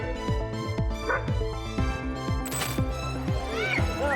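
A dog barks in rapid, repeated bursts during a leopard attack at a home at night, the loud yips and bow-wows closely spaced and frantic over a busy background.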